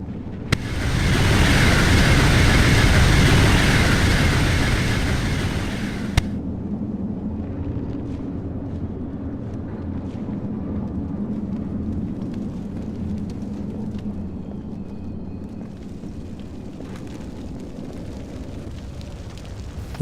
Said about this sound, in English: We need to put this fire out to get through here